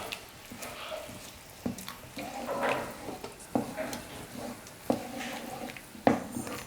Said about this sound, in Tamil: தண்ணியோட சேர்த்து உருளைக்கிழங்கு நல்லா கலந்து கொடுத்துடுறேன்.